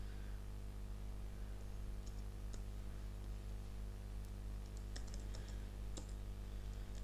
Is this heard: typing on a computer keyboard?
yes